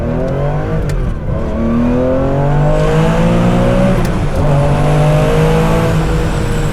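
A loud Porsche sports car engine revs hard, its pitch climbing and dropping in repeated sweeps, close by with no talking.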